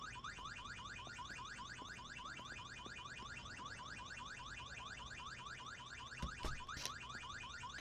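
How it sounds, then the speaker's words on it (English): An alarm going off in the video game VEIN, a rapid repeating electronic warble cycling steadily and loudly throughout, with a couple of brief bangs near the end and no speech. "So of course we got an alarm going."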